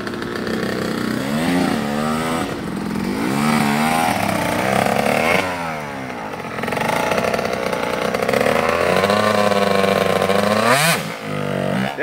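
A two-stroke dirt bike engine screams through repeated revs during a wheelie attempt, pitch climbing and sagging as it bogs and the throttle is released, loud and close throughout.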